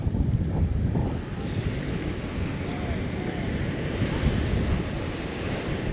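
Shore-break surf at Sunset Beach on Oahu's North Shore, with waves washing and breaking in a steady roar, close and fairly loud, under gusty wind buffeting the microphone and no talk.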